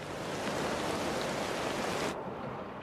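Steady rain falls in a dense, even hiss, part of the autumnal sound design for the series Dark, then it is abruptly cut off and gives way to quieter noise.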